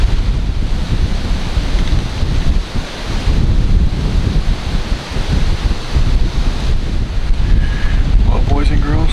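Strong wind buffets the microphone outdoors, a loud, continuous roar with gusting swells and rushing noise, while a voice comes through faintly near the end.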